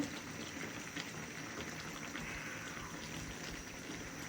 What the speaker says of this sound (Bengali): ভিতর থেকে একটু তুলে দেখি আলুটা কি পরিমাণে বয়েল হয়েছে